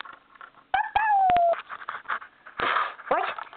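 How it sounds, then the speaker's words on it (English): A dog plays and scuffles, giving out a rising whine or whimper, sharp yelps and rough huffing noises, close by and in loud bursts amid muffled household sounds. "my mom's just fighting with my dog Ollie again"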